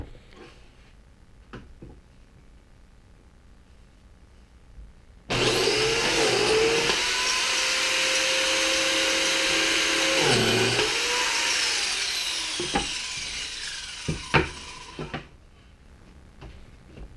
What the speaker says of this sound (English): Now we're going to use a biscuit joiner to put in biscuits.